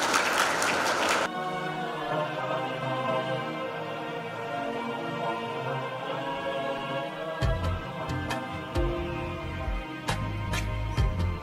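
Studio audience applause at the grand finale of a televised singing competition: a loud, dense burst of clapping at the start gives way to musical tones.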